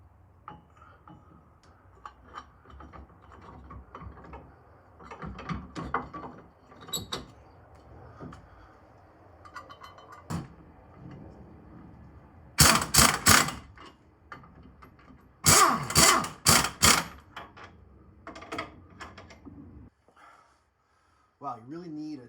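Ratchet with a deep socket tightening U-bolt nuts while installing an add-a-leaf on a Tacoma, heard as several bursts of quick clicking ratchet strokes, close and fairly loud, between quieter handling noises and some talk.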